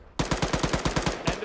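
Automatic gunfire in the ArmA 3 military shooter, a fast burst of about ten evenly spaced loud shots, close and punchy with no speech.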